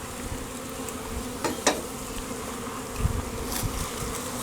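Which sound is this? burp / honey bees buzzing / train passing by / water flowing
honey bees buzzing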